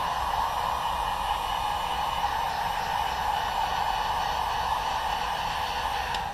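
A heat gun blows hot air steadily onto a shoe sole, a continuous loud whooshing hiss with a constant fan hum and no pauses.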